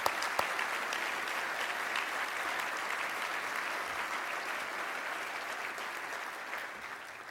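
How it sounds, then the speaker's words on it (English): A large lecture audience gives sustained, even applause to thank a troupe of actors, a dense wash of many hands clapping at a steady level throughout, without any speech. "with your applause, thank the actors who are here with Freedom Rising, who brought it to life for us"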